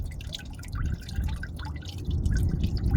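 Engine coolant drips and trickles steadily from a Saturn Sky as it drains, a quiet patter of irregular drops over a low background rumble.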